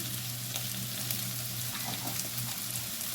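Spice masala with salt, turmeric, sugar and a little ghee sizzles steadily in a pan while being stirred, a close, continuous frying hiss with light scraping throughout.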